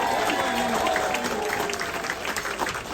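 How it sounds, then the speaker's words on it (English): Audience clapping for the chefs at a cruise ship dinner, a steady wash of applause from a room full of diners that carries on for the whole stretch, with some faint voices mixed in. "let's give another big round of applause for all of our chefs"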